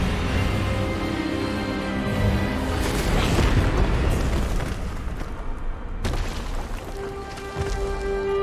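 A spell blast in the Hogwarts Legacy video game's final battle, heard as a loud, sustained roaring burst with deep rumbling that fades and then ends in a sharp crack.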